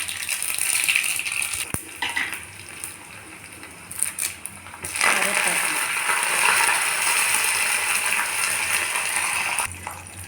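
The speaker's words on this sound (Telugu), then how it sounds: "తాళింపు వేస్తున్నానండి" Mustard seeds, cumin, urad dal and chana dal tempering in hot oil for a gongura and brinjal chutney, a steady bright sizzle with crackling pops that surges loudly after a brief lull and keeps frying continuously.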